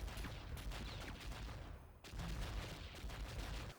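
Rapid bursts of gunfire from the arcade light-gun game Johnny Nero Action Hero crackle in dense, continuous volleys at moderate volume, with no talk.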